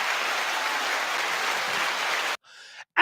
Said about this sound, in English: A warm round of applause for Peter.